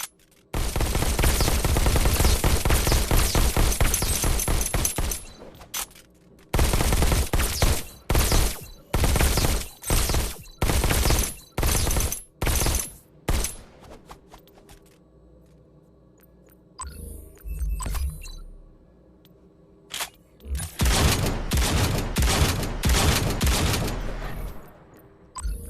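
Rapid bursts of gunfire ring out at the gun range in the video game Robo Recall, loud sustained volleys broken by a run of separate shots, then a pause and another long burst, with no talk.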